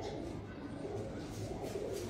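A female pigeon cooing softly nearby, low throaty murmuring calls repeating across the short stretch against a dull indoor background.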